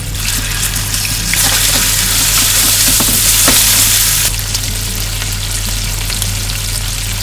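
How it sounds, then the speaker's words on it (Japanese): Bacon and red chili sizzle in olive oil with garlic in a frying pan, a steady close crackling fry that swells louder midway then settles, with a low hum underneath and no talking. "ニンニクにね香りが出てきたので赤唐辛子、そしてベーコン加えて炒めていきましょう"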